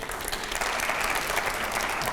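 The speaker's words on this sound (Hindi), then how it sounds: "दूसरे सवाल से पहले जरा जोरदार तालियां हो जाए पहले" A full crowd applauds loudly and continuously at a live televised political debate, a steady wash of many hands clapping with no pause.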